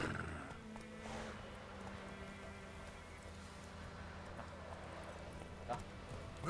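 Geralt's horse Roach gallops in The Witcher 3, a steady, rhythmic clip-clop of hooves running continuously under a low background hum, with a voice speaking over it.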